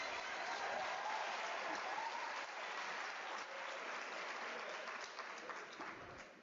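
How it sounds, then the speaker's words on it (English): A large graduation-ceremony audience applauds the graduates' parents, a broad, sustained wash of clapping that holds steady throughout and tapers slightly toward the end. "Can we applaud all our parents on the other side?"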